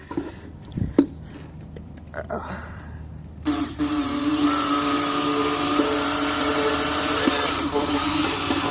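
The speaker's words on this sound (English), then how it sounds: "So let's get the drill and get started." A power drill whirs into motorcycle plastic while installing a USB charger, a steady high-pitched whine that starts after a few seconds of handling clatter and continues to the end.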